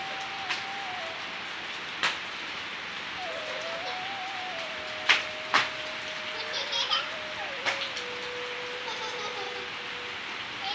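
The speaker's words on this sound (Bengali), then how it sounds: "দেখো বন্ধুরা বৃষ্টি চলে এসেছে" Rain falls at a rural home in Bangladesh, a steady soft hiss with scattered drip taps, under a thin high tone and faint distant children's voices.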